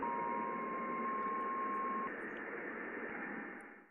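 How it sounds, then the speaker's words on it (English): Plasma wave recording from the Juno spacecraft near Jupiter: a dense, steady radio-like hiss with a thin sustained tone through the first half, fading slightly toward the end. "You can hear the background noise increase as the density of plasma increases."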